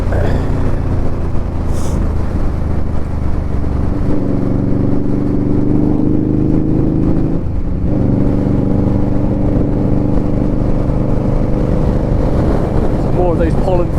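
An Indian Scout Bobber motorcycle on a countryside road holds a loud, steady engine drone under heavy wind rush, its pitch climbing slightly toward the end as the throttle opens.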